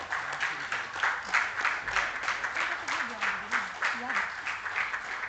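Audience applause at a seminar on renewable energy transition, a steady wash of many hands clapping that holds for several seconds at moderate level, with a voice speaking faintly underneath.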